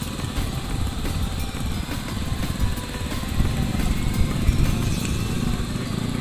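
Steady engine noise from passing vehicles on a roadside beside a koi farm, loud and close, with motorbike-like rumbling swelling now and then, like standing beside a busy road.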